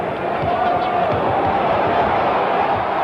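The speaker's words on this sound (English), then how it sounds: "Crowd screaming, wanted traveling." A basketball arena crowd at a 1973 Bulls versus Lakers game, roaring and screaming steadily and loudly throughout, a dense continuous wall of cheering with a commentator-like voice mixed in.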